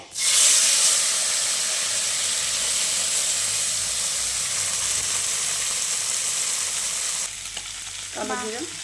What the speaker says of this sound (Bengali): এখন মা ছোট মাছগুলো সব ভেজে নিবে।